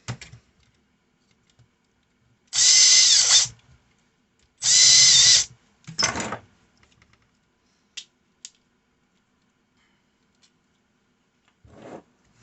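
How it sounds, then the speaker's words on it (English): A power screwdriver drives out Phillips screws from a Fromm P328/P329 strapping tool in two loud, buzzing bursts of about a second each, followed by small clicks and handling taps against near silence. "Take these two Phillips screws out here."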